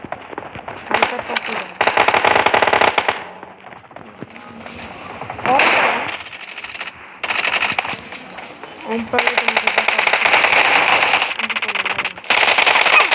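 Rapid SMG gunfire bursts in the mobile game PUBG Mobile during a team deathmatch, several loud crackling volleys separated by short pauses, with players talking over the action.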